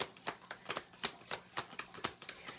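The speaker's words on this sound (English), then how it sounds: "so I'm having a really hard time shuffling them" New oracle cards being shuffled by hand, a rapid series of crisp riffling slaps in an irregular rhythm, close and fairly quiet with no talking.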